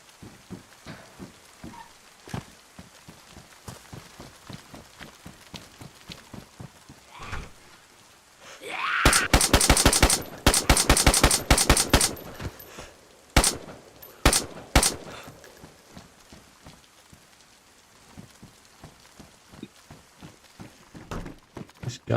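Gunfire in a video game sounds as sharp, close bursts of rapid shots clustered in the middle stretch, with scattered single reports and lighter clicking before and after.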